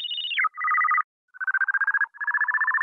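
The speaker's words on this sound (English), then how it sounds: "Let's change this phone bass around again." A synthesized phone-like bass tone from a dubstep production sounds in a falling ring, then rapid buzzy pulsing bursts separated by a short gap, loud and dry with no talk over it.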